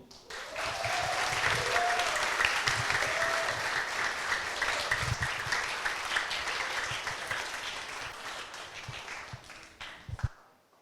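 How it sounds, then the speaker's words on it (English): A drum workshop audience gives a big, dense round of applause to welcome the drum instructor, steady and full for about ten seconds before tapering off, with faint cheers mixed in. "let us give a big clap to welcome our tonight instructor"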